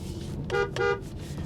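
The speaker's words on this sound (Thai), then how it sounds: "เสียงแตรดังดีนะครับ" Two short car horn honks in quick succession from an MG S5, loud and close, over the steady hum of the moving vehicle.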